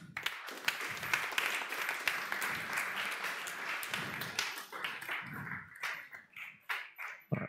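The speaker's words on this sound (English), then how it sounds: "Big applause" Audience applause at the closing of a student challenge pitch event, a dense burst of clapping that is loud at first and thins into scattered individual claps toward the end.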